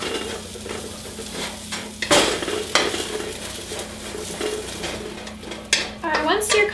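Cauliflower stir-fried in a large wok: a continuous sizzle under scraping stirs and sharp clanks of a utensil against the metal pan, with a brief voice near the end.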